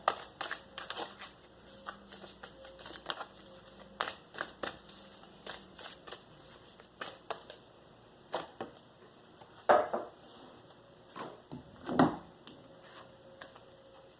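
Tarot cards being shuffled by hand in repeated quick riffling bursts with short pauses, close and fairly crisp, with no talking.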